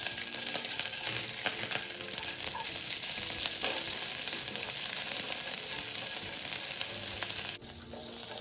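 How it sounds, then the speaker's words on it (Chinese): Fresh shrimp fry in hot cooking oil with a dense, steady sizzle and crackle, close up and continuous, until the sound abruptly thins near the end. "油热后，将备好的鲜虾倒入"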